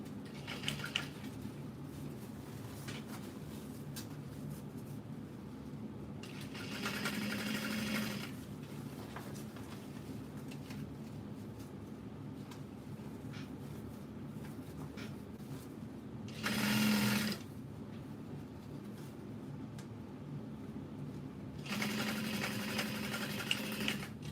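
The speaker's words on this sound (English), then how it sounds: "we will sew up the side panels" A sewing machine stitches the side panels of a custom-ordered piece in three bursts of steady whirring, around 6–8, 16–17 and 22–24 seconds, with quiet room tone between them.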